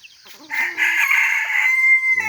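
Parawakan cross native chickens, a Philippine free-range batch, give a loud nearby rooster crow lasting over a second, with clucking just before and after.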